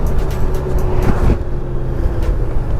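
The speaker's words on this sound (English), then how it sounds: "I'm going to check out that downshifting again because I am coming up here to a stop" A 2020 Honda Goldwing motorcycle downshifting as it slows to a stop, with a steady low engine drone, a brief rise in revs midway, and wind and road noise all around.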